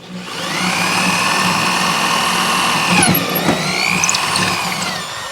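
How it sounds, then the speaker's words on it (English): A power drill whines steadily for several seconds, loud and close, boring a hole through a chicken coop wall, with a brief shift in pitch partway through. "I got to drill a hole through through this spot right here"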